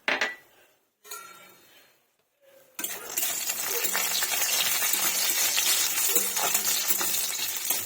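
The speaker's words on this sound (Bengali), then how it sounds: "চলুন এবার বড়িগুলোকে ভেজে নিই" Lentil dumplings (bori) fry in a generous pour of oil in a wok, starting with a few soft clinks and stirring scrapes, then breaking into a loud, continuous close sizzle that holds to the end.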